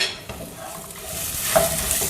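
Steady sizzling and frying of onions in a pan with occasional stirring scrapes, continuous and close, no voices.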